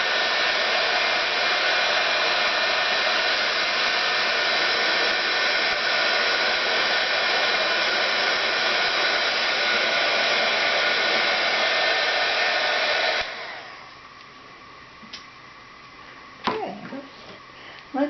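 Glue gun whirring loudly and steadily during crafting for about thirteen seconds, then cutting off to leave faint room noise with a few light knocks.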